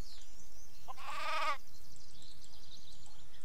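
A single sheep bleat in the Craft the World video game, a short wavering cry rising clearly over a steady background of game ambience.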